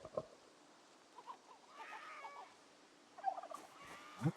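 Turkeys gobble in a survival video game, a few short gobbling calls spread across the clip at moderate distance, with no talk over them.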